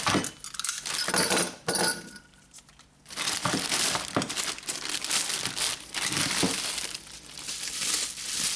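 Small metal Honda ignition keys, new and cut for a replacement lock cylinder, jangle and clink together in close, repeated bursts with a brief quiet gap partway through.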